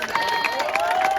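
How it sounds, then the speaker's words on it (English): At a cricket tournament prize ceremony, a crowd claps and cheers in a brief lively burst while a voice talks over the noise. "A round of applause to him. Well done."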